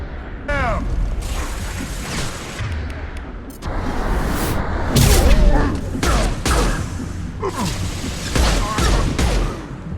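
Heavy gunfire in the Mass Effect 2 video game, a steady run of close, loud shots and metallic mechanical clatter lasting throughout, with a voice speaking over it.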